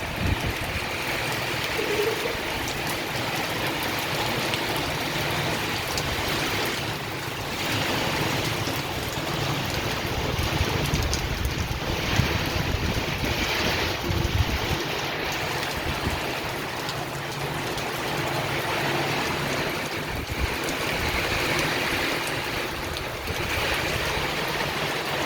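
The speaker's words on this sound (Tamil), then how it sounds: "பண்ருட்டில் கனமழை பலமாக அடிக்கிறது." Heavy rain pouring down in Panruti, a steady broadband hiss of falling water that continues for the whole stretch with slight swells and dips in loudness, no voices, and a faint low rumble running underneath.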